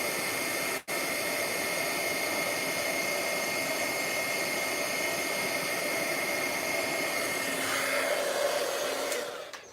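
A heat gun melting embossing powder on a card gives a steady, loud, close whooshing blower hiss with a motor whine that holds constant for nearly ten seconds, preceded by a brief click, then cuts off.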